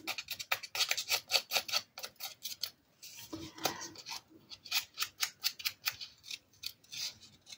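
Small scissors snipping through thick Canson paper, a rapid run of crisp close cuts, a short pause, then more quick snips, with no talk.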